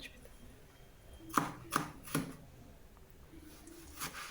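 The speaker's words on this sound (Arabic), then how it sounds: "غنقطعوهم، نقطعوا الثوم" A knife chops garlic on a cutting board, three distinct, fairly close thuds spaced about half a second apart, then a softer fourth cut after a pause, against a quiet kitchen background.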